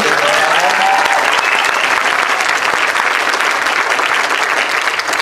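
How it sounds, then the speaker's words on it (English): A large crowd applauding at a big event in Wichita, loud, dense and sustained clapping that stays at full strength throughout. "Big round of applause for everybody."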